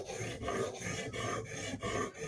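A Hinderer knife rasps against the stone of a Hapstone RS sharpener in close, steady strokes, about six passes with brief gaps between them, scraping and gritty, with no voices.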